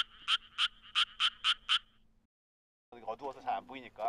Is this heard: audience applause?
no